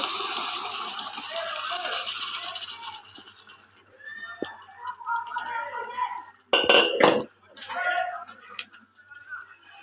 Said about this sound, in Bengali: এবার আমি সেদ্ধ করা মুগ ডালগুলো দিয়ে দিচ্ছি